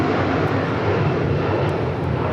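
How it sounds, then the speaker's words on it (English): A United Boeing 757-200 airliner departs LAX bound for Newark, its engines giving a steady, loud broadband roar that holds constant throughout without pause. "That is United 1128 departing to Newark on a 757-200"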